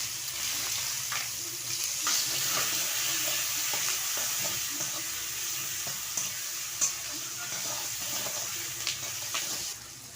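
Chopped onion sizzles in oil with bay leaf and cumin, a steady loud frying hiss broken by frequent light stirring scrapes and taps.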